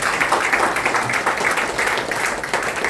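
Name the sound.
audience applause for the speaker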